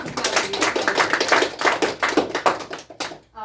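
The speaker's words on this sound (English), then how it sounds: "Will you please give him a round of applause?" Applause for a player in a Mafia party game, with dense, steady clapping from a small group of hands close by that thins out and stops near the end.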